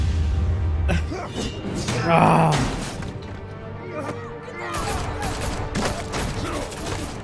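Rapid bursts of gunfire and crashing impacts from a Batman: The Telltale Series scene play loud and close, mixed with smashing hits and a dense action soundscape, with talk briefly heard amid the chaos.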